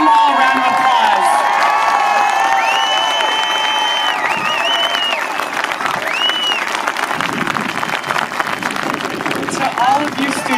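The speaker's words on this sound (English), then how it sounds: "Let's give them all a round of applause." A large outdoor crowd at a 2018 March For Our Lives student rally in Stamford claps and cheers continuously, with shouts and whistles rising over the sustained applause.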